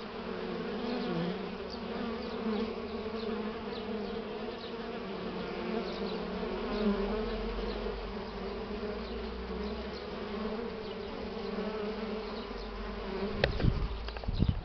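A dense swarm of honeybees on a strong spring cleansing flight outdoors hums steadily up close, a continuous droning buzz with a few sharper bumps and knocks near the end as bees strike the camera.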